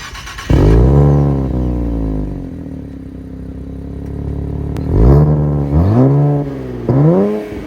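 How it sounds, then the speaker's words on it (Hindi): A 2025 Nissan Z Nismo sports exhaust roars loud and close, with a long rev that swells and then settles into idle, followed by three short, sharp blips of the throttle. "और एक बार अगर मैं आपको इसका स्पोर्ट्स एग्जॉस्ट सुना दूं"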